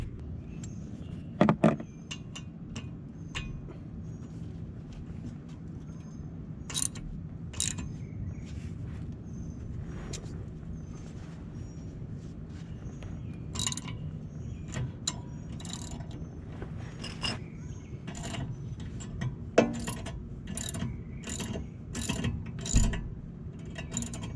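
A socket presses against the hub of a Lexus IS 250/350 to push the brake rotor off, giving scattered metallic clicks, ratcheting and clanks over a low background hum, with sharp taps growing more frequent toward the end.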